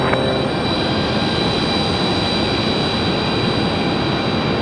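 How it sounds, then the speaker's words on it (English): A FedEx Boeing 767 jet taking off at night from Raleigh-Durham International Airport, heard as a loud, steady, broadband engine roar with faint whining tones and no talk. "he's got to get this 767 out of here, our last departure of the night"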